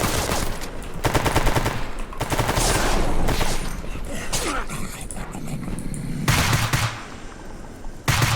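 Intense, continuous gunfire in the Escape From Pripyat shooter game: rapid automatic bursts and repeated shots with mechanical clatter, loud and close throughout with brief pauses between volleys.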